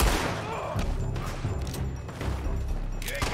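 Handgun fire rings out in a Red Dead Redemption 2 town shootout, with sharp, close shots and scattered booms from other gunfire, mixed with game noise and voices.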